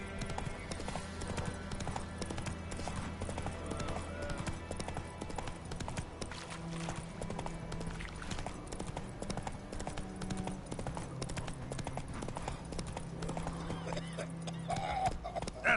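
Horse hooves clopping on the ground in The Witcher 3 video game, a steady trotting rhythm alongside background game music, with faint voice moments.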